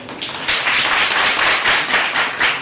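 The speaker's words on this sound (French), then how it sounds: "Il faut applaudir ça au moins." Applause from a crowd at a primary school certificate exam ceremony in Couffo, dense, steady clapping that swells loudly after a brief quieter start and carries on without talk.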